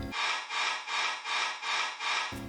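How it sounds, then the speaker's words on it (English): Filtered white noise in an electronic track's drop, six rhythmic pulsing swells of bright hiss, each rising and falling evenly, with a brief snatch of the track before and after. "The drop comes in. This is the white noise again."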